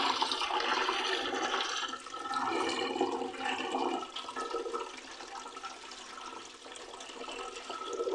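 Chopped turnip and spinach get rinsed under running water from a tap, a continuous close splashing and gurgling flow that swells and eases, with no voices.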